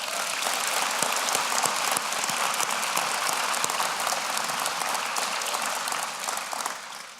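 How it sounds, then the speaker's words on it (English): Sustained applause from a gala awards audience fills the room, dense and steady clapping at close range that holds throughout before tapering slightly at the end. "Let's give them a round of applause."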